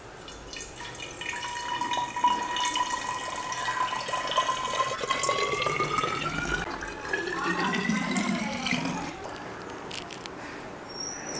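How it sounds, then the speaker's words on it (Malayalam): Homemade distilled liquor poured into a bottle indoors, a steady trickling fill with a rising tone as the bottle fills over several seconds, fairly close, with faint background noise. "അപ്പോൾ നമ്മൾ നമ്മുടെ കുപ്പിയിലേക്ക് ഇത് ഒഴിക്കുവാണ്."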